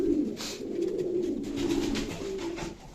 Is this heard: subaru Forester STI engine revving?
no